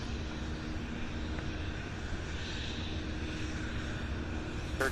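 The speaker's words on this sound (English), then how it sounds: "Looks like the 747, the Atlas Air 2075 coming in for landing on 17 left." An Atlas Air Boeing 747 lands on runway 17 left at Louisville International Airport, its engines a steady broad roar at a distance that holds the whole time.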